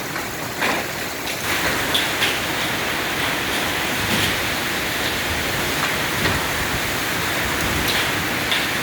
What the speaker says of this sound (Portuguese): Tá chovendo pedra, quase arrancando as árvores aqui, ó.